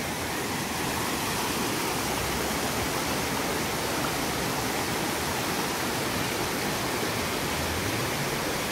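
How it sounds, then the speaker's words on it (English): A mountain river with clean water flows between forest and mountains near Caraiman Monastery in Busteni, Romania, giving a steady, dense rushing roar that stays even throughout, close and fairly loud, with no voices. "We just found the river."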